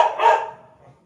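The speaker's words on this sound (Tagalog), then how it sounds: "dyan yung mga aso nila." A dog at a house and lot property lets out a single sharp, fairly close bark that fades quickly, with no talking over it.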